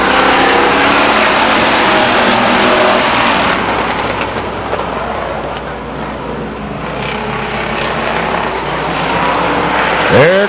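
Race cars coming off turn 4 at Stockton 99 Speedway roar loudly past, engines revving in a sustained blare that dips briefly mid-pass and surges again, heard from trackside.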